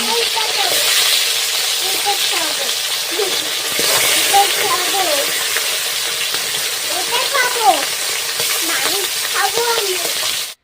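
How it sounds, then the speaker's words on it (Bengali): Fish frying in hot oil, a loud, continuous close sizzle and hiss with spatters, while a person talks faintly over it. "মাছটা ভাজা হয়ে গিয়েছে"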